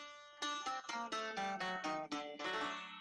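The Hijaz scale played on a Greek musical instrument as a quick run of about a dozen bright, plucked-sounding notes in succession, each briefly ringing, fairly quiet and alone.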